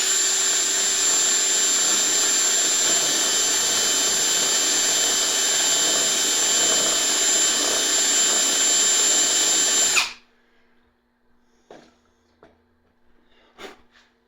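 Power drill reaming out a Takahashi EM 200 telescope riser part, a loud continuous whine for about ten seconds that stops abruptly, followed by faint scattered clicks and handling knocks.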